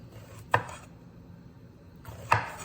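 A knife chops jalapeño peppers on a cutting board in two crisp, separate strikes about two seconds apart. The cuts are close and clear in a quiet kitchen with no one speaking.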